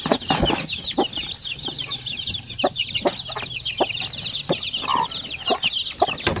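One-week-old Basilan chicks on a farm, peeping in quick repeated high chirps from several birds at close range, alongside scattered clucks and soft rustling.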